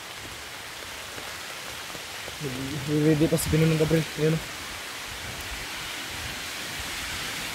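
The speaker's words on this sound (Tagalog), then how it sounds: "Sobrang lakas ng ulan tol" Heavy tropical rain pours down in a dense, continuous hiss, while a voice speaks briefly over it partway through.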